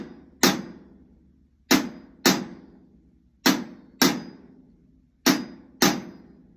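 Seven sharp, isolated drum strokes using the Moeller down-up rebound motion. They fall in uneven pairs, each a crisp close attack that decays quickly, with no talking.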